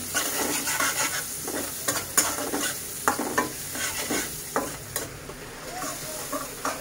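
Onions sizzle and fry in oil in a pan after fish has been fried, with a spoon stirring and scraping through them repeatedly, close and steady, with no talking.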